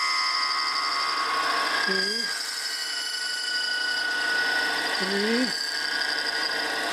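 A thread is tapped with tapping oil into a part for a miniature steam engine, likely on a machine with a tool spinning. A steady motor whine and hum runs throughout, and a man counts aloud over it.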